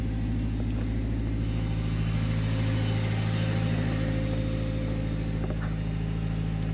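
A car engine idling steadily just after starting in winter, following a battery replacement and isolator switch install, giving a constant low hum and drone with no revving, close by and unbroken throughout.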